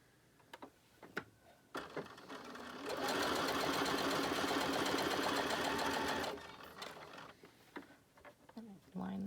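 Sewing machine running a quarter-inch seam on a quilt block: a steady, loud, rapid mechanical stitching whir lasting several seconds, with quieter handling clicks and brief speech before and after.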